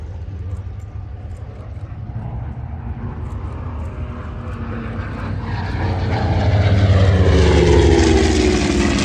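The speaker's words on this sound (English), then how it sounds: "the team will now be making their landings." Vintage aircraft fly in to land at the Duxford airshow, their propeller engines droning steadily and growing louder as they approach, with the roar peaking close by near the end.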